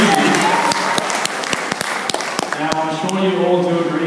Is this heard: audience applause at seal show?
yes